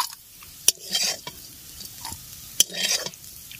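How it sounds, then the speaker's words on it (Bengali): Boiled figs frying in oil give a soft sizzle under clinking utensil taps and scraping as the pieces are stirred and lifted out of the pan, with two sharp metallic clicks. "এবার আমি তুলে নেব ডুমুরটা, খুব সুন্দর করে ভেজে নিয়েছি"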